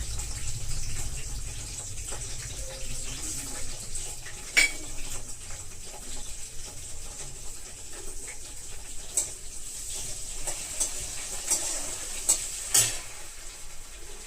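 Coriander seeds and cumin fry in a pan with a soft continuous crackling hiss, punctuated by occasional clinks and scrapes of a spoon against the metal, close and moderate in level, no talk.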